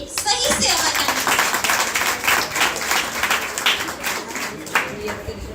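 A gathering at a Mahaveer Katha religious discourse bursts into steady, close applause, many hands clapping together at an even pace without a break from start to finish.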